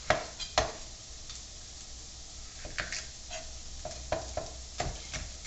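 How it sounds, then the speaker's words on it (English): Chopped red pepper sautéing in a pan for chicken parmigiana, a soft steady sizzle broken by scraping stirs and occasional utensil clicks against the pan, close up. "I'm just going to saute them a little bit just to get a little bit of the juice out of it."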